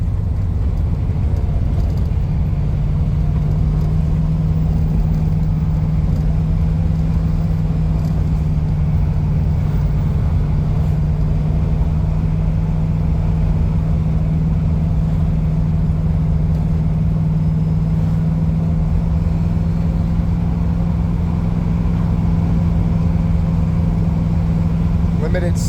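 A Camaro cruises along a road, its engine a steady low drone with constant road and cabin rumble, while people talk over it throughout.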